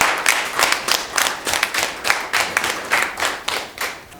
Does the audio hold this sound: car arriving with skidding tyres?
no